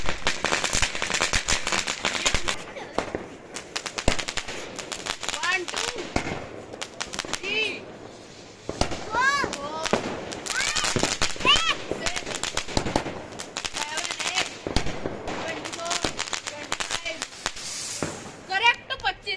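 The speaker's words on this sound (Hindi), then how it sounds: "ये कुछ नहीं है, ये पैसों की बर्बादी वाला पटाखा है।" Diwali firecrackers crackle and pop in dense, irregular bursts, with sharp bangs throughout, near and loud, while people talk and shout over the noise.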